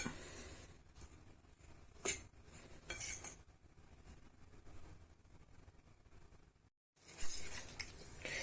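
A utensil stirs a batter of semolina, flour and yeast for baghrir in a bowl, making faint scraping and a few sharper clinks against the bowl, with a brief silent gap.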